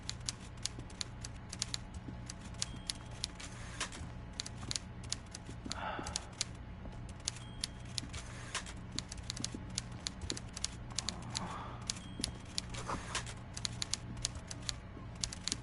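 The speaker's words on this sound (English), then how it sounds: "I hear someone typing." Someone types on a keyboard in the video game Disco Elysium, making faint, rapid, irregular clicks that patter steadily throughout over a low hum.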